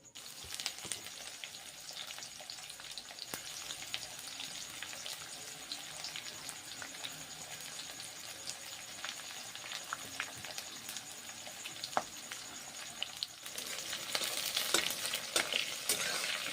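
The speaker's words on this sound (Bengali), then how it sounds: "পেঁয়াজগুলো ভেজে নিচ্ছি" Chopped onions fry in hot oil in a pan for a mushroom curry, giving a dense, continuous crackling sizzle with occasional pops, close and steady throughout, swelling louder near the end.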